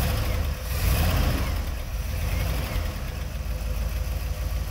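A 1966 Corvette Roadster runs after a cold start, its engine idling steadily and loudly up close with a rough, rumbling tone and a slight rise early on, no talking over it.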